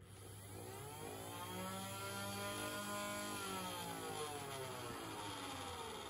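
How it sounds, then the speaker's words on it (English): Flywheels of a modified Nerf ARL blaster rev up, holding a whirring, motor-like tone with rising and falling harmonics before starting to wind down; close and fairly quiet, with no talking. "when I let go, it lets the flywheels slow down as they should"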